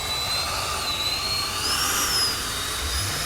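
A 64mm FMS Rafale radio-controlled jet makes a low, high-alpha pass, its ducted fan giving a steady high-pitched whine that shifts slightly in pitch as it passes, fairly loud and continuous with no talking.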